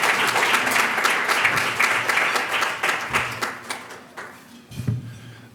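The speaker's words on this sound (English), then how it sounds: "let's have a round of applause for Dr. Gowden." An audience at a healthcare keynote talk applauds with brisk, dense clapping that thins and fades toward the end, leaving a few scattered claps.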